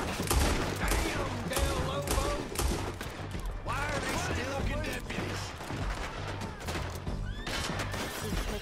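Rapid gunfire in a Red Dead Redemption 2 shootout, with horse whinnies and hoofbeats mixed in, dense and continuous under shouted voices throughout.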